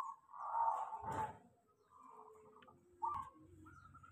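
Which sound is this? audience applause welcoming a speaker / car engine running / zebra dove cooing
zebra dove cooing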